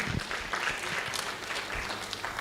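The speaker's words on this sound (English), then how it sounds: "Can we clap for the chairman as he comes?" A short burst of clapping from a business summit audience in Eldoret, Kenya, steady and moderately loud, lasting a couple of seconds.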